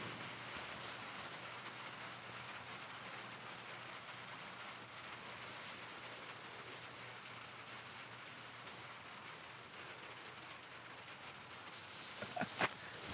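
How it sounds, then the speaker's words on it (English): Steady rain drums on a metal roof, a dense, even patter throughout, with a few brief louder knocks near the end. "The tin roof makes it sound like it's really raining."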